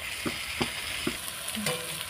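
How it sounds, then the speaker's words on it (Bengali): Garlic and ginger paste frying in a pan, a steady close sizzle with a few soft knocks from stirring, heard alone without talk. "এই যে রসুনটা একটু ভেজে নেবো, তারপরে একটু আদা দেবো"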